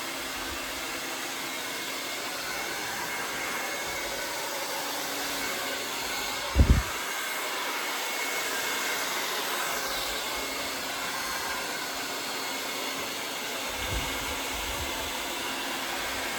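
A hair dryer blow-dries hair upward for volume, its constant close airy roar running unbroken throughout, with a couple of brief low bumps as it is moved and no talking.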